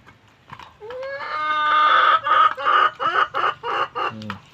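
Young backyard chicks about three months old cluck and chirp close by in a lively run of short calls, with a rising squawk near the start.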